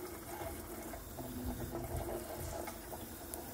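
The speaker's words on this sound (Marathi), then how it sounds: "भेंडी पण साईडला धुवून घेते आहे" Okra being rinsed under a running tap in a home kitchen, a steady splashing flow of water continuing throughout at moderate level with no voices.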